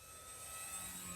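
Dynam PT-17 RC model plane in flight, a steady whining motor drone with thin high tones, moderately distant and holding even throughout.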